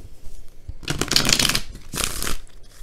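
Tarot cards being shuffled by hand close up, two quick riffling bursts separated by a short pause, crisp and fairly loud with no talking.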